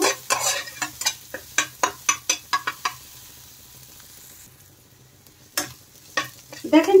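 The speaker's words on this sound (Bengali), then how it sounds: "নেড়ে চেড়ে কিন্তু পেঁয়াজগুলো একটু হালকা ভেজে নেব" Onions with turmeric are stirred and lightly fried in a pan: a close series of sharp, rhythmic spatula scrapes and clacks over a low sizzle, then a quiet pause before a few more strokes resume.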